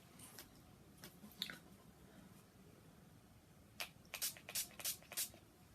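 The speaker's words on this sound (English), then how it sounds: "Okay, where's my spray? I'm going to spray the brush." Several quick hisses of makeup setting spray misted onto a brush come in a close, rapid burst of puffs near the end, after a few fainter earlier bursts over a quiet, low room background.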